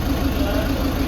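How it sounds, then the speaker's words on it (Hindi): A diesel Volkswagen Polo with a knocking fault and white smoke runs close by, its engine giving a rough, steady mechanical drone with a rapid, regular pulsing beat. "अभी जैसे हम इसमें एक्सीलेटर देंगे तो ऐसा महसूस होगा जैसे इंजन के अंदर कुछ टूट गया है।"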